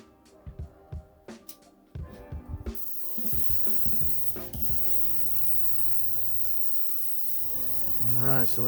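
An airbrush sprays paint onto a fishing jerkbait lure, giving a steady close hiss for several seconds after some clicks and handling noises at the start, with a voice speaking near the end.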